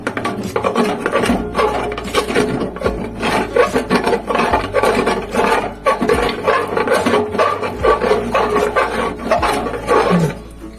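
Gobindobhog rice being stirred in a cooking pot for a vegetarian meal, giving a loud, continuous rasping scrape that rises and falls in steady strokes for the whole stretch, with no voices.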